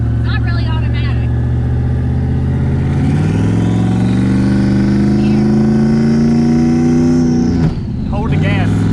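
A turbocharged LSX-swapped Mazda RX7 with a Powerglide automatic transmission accelerates hard, its engine drone rising steadily in pitch for several seconds, then drops sharply at a shift before climbing again. The car is close and loud.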